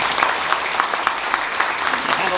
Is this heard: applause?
yes